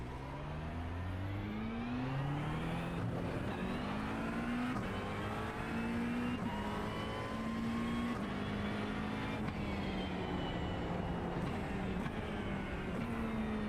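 A McLaren GT3 race car in a racing video game at Suzuka circuit, its engine droning and revving steadily through gear changes with rising and falling pitch, continuous and close, with no talk.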